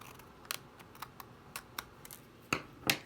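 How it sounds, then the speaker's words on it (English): Scissors cutting paper along a traced line while crafting a butterfly card, heard as a series of quiet, separate snips spread over a few seconds, with two sharper cuts near the end. "you can use your paper trimmer or just come in with your scissors"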